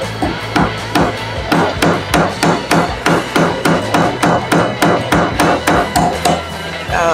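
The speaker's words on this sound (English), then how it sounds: "And then pound the nail in." A hammer strikes repeatedly in a fast, even rhythm, about twenty sharp close-up blows driving a nail into wood.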